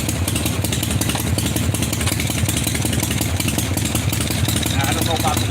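A 1981 Harley-Davidson FXB Shovelhead engine runs loud and close, with a rough, throbbing idle and mechanical clatter as the bike is put in gear, a steady running sound with no pauses.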